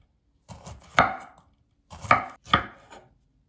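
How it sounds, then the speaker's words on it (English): Jalapeno peppers sliced with a knife on a board: three distinct, crisp cuts, one followed by a pair, close and clear against near silence. "So slice up those jalapenos."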